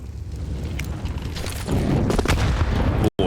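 A grenade detonation in a Counter-Strike match on the Vertigo map, heard as a heavy boom with rumbling aftermath amid steady game ambience, ending in an abrupt cut.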